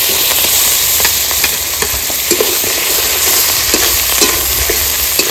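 Onion with cumin, fennel, cardamom and ginger paste sautéing in a pan, a steady loud sizzle broken by frequent spoon scrapes and stirring clacks throughout, with no talking.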